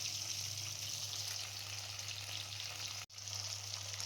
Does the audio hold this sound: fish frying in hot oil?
yes